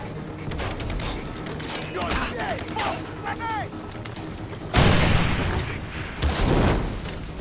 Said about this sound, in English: Stealth explosion.